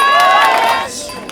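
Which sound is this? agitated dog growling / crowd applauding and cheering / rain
crowd applauding and cheering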